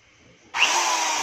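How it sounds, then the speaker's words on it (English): Electric drill switched on after its carbon brushes were replaced, kicking abruptly into a loud, steady, close motor whir that holds after a quiet start. "itatry na natin kung gagana na yung electric drill natin"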